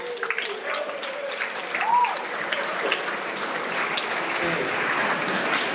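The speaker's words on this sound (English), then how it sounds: "Let's give Lauren a round of applause" An audience breaks into steady applause, with voices and a few calls rising over the clapping.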